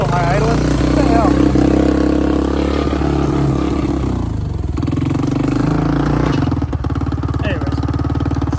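A 1986 Honda TRX200SX ATV engine holds a steady, slightly high idle with a throbbing low rumble, close and continuous, dipping briefly around midway before settling again; no speech over it.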